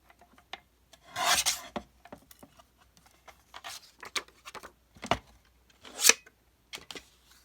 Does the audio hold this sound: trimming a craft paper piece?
yes